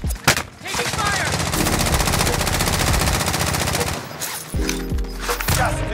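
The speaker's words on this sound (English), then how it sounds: "Taking fire!" Sustained automatic gunfire in a Warzone battle royale match, a loud continuous machine-gun burst for several seconds, then a brief lull followed by more heavy shots and in-game radio voices.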